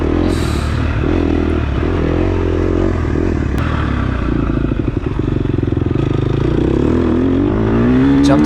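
Dirt bike on an offroad track in Lometa, Texas, its engine revving hard and climbing under open throttle, loud and close throughout with a rough, buzzing exhaust note.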